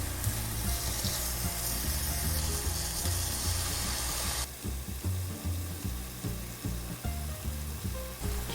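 Tempeh sautéing in a pan with a hot sauce marinade, giving a steady, close sizzle and fry with soft stirring and scraping knocks; the sizzle drops in intensity partway through.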